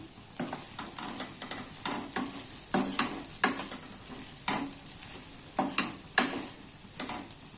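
Soft potatoes with turmeric and chili powder are stirred in a hot pan, with repeated scraping strokes of a spoon against the metal at an uneven rhythm over a constant close sizzle.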